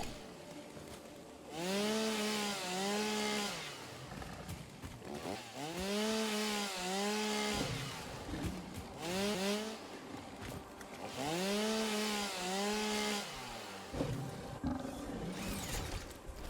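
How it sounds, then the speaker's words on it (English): A chainsaw cuts trees in the video game Satisfactory, revving up and down in repeated bursts with rising and falling engine pitch, fairly close and moderately loud, with pauses between cuts. "Chainsaw, there we go."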